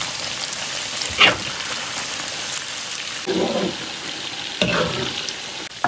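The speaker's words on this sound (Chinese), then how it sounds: "油温五成热，下入鸡柳，小火慢炸至金黄" Chicken strips deep-fry in moderately hot oil over low heat, giving a close, steady crackling sizzle with a few louder bursts and scrapes as they are nudged.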